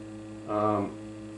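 A 110 Hz test tone played through a small guitar amplifier swells in briefly for about half a second, a buzzy hum rich in stacked harmonics, over a faint steady mains-like drone.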